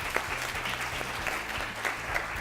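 An audience claps for a quiz team at a national quiz final, a dense, steady round of applause from a crowd that stays even throughout with no one speaking.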